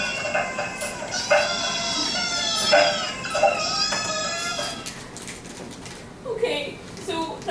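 Small cats or kittens mewing repeatedly from inside a box, a string of high, thin cries in the first half, then fainter and more sporadic, with background noise throughout.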